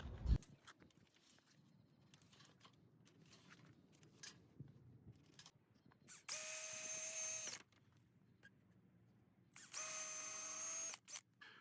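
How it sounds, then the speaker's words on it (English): A power drill boring holes in aluminum whirs in two short, loud bursts, separated by quiet handling noises and faint clatter. "take your drill and drill all the holes out in the aluminum prior to installing"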